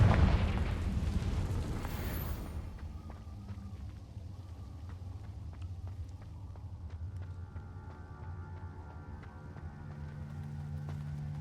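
A Confringo fire spell exploding in Hogwarts Legacy, a loud booming burst at the start that fades into a low rumble, followed by faint game sounds and scattered clicks.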